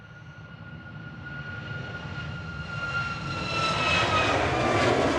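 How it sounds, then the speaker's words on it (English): Ryanair jet departing Manchester Airport, engine roar swelling steadily louder with a rising whine as it powers up and climbs, no talk over it. "So that's Ryanair EIHGS departing in parallel with the landing 757"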